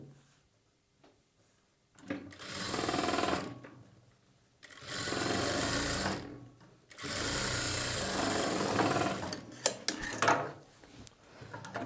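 A sewing machine stitching blouse lining runs in three bursts of steady rapid whirring, separated by silent pauses, close and clear, ending with a few clicks and handling sounds.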